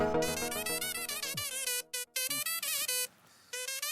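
A mobile phone ringtone plays, a bright melodic electronic tune with short repeated phrases and a few brief pauses, close and clear with no talking.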